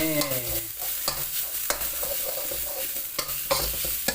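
Chili is stir-fried in a little oil over medium heat, giving a close, steady sizzle broken by sharp scrapes and clacks of the stirring utensil against the pan.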